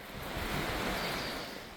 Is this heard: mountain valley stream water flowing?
yes